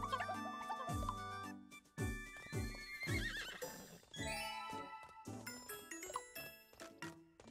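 A horse in the video game Miitopia lets out a series of bright, loud whinnies and neighs with clip-clop and jingling touches, repeated in quick bursts over a few seconds.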